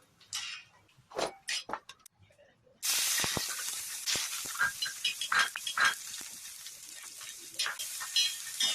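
Dried coconut roasting in hot oil for a black masala for a village-style soybean curry, a steady loud sizzle that jumps up suddenly partway through, with scattered stirring clatter and knocks earlier on.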